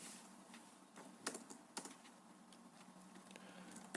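Code is typed on a computer keyboard in soft, sparse keystrokes, with a couple of sharper clicks standing out against a faint steady background hiss and no talking.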